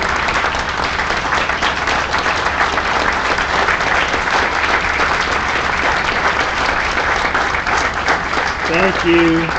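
A crowd applauds the Georgia governor at a recycling company event, loud continuous clapping sustained throughout, with a brief voice emerging right at the end.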